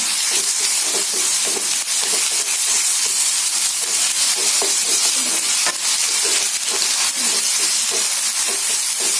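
Onions sizzle loudly and steadily in a hot pan, with faint scraping as they are stirred.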